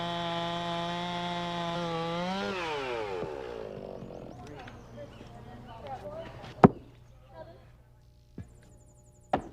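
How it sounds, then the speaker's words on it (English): A chainsaw power bucking wood runs at a steady high whine for a few seconds before dropping away, followed by scattered knocks and sharp wooden cracks at a lumberjack show. "I know that sound. It's a chainsaw, right?"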